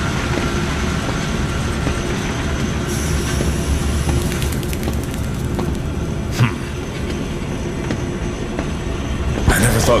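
Train running through a zoo in the video game Zoochosis, a steady rumbling rail roll with metallic squeals and clacks, continuous and close.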